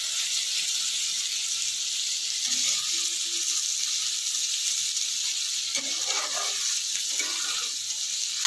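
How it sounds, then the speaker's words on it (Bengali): Bitter gourd slices sizzle in a frying pan with a constant, even hiss, joined by a few quiet scraping and tapping sounds from stirring partway through. "উচ্ছেগুলো ভাজা হচ্ছে"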